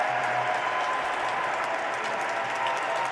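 A full church congregation cheering and applauding during a Mass, a dense steady wash of clapping and crowd noise that holds evenly throughout.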